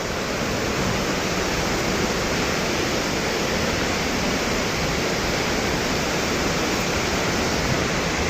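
Thompson Falls at Nyahururu roars as a dense, steady wash of falling water, loud and unbroken throughout with no voices.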